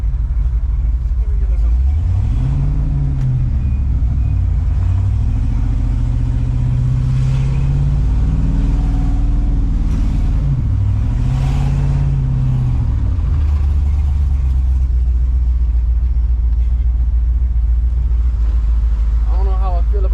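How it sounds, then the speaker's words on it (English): Truck engine with an aggressive cam, loping and choppy at idle with several rising and falling revs, heard from inside the cab as a loud, steady rumble throughout. "That cam in it sounds crazy."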